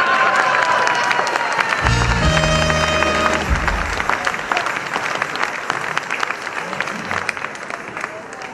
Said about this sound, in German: War das Applaus?